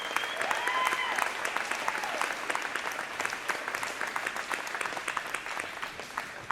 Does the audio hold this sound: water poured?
no